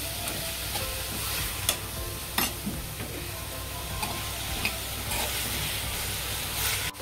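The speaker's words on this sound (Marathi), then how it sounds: "मीठ टाकल्याबरोबर आलं लसणाचं पेस्ट मी नंतर का टाकले, कारण ते चिटकून बसतं ना, म्हणून 2-3 मिनिट परतून घेऊया त्याला।" Ginger-garlic paste is sautéed with marinated chicken in a pan, a steady loud sizzle with occasional sharp scrapes of a spoon stirring against the metal, heard close and alone without talk.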